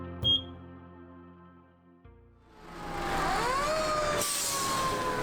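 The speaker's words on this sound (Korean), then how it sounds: "전국 각지에서 출동한 소방차들이 하나둘씩 자원집결지로 모여들기 시작했습니다" Fire trucks gather at a staging area during a large wildfire at night. A sharp knock leads to an engine idling, then rising, wailing sirens build and hold loud as the vehicles arrive, with no one speaking.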